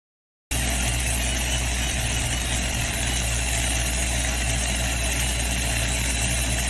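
Heavy pulling-tractor engines with Chrysler Hemi motors rumble at an outdoor tractor pull in Mound City, Kansas, a loud, steady, continuous engine roar that starts abruptly and holds without a break.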